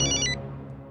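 A telephone ringtone chirps in a short repeating electronic pattern, fairly faint, then cuts off, leaving a low hum underneath.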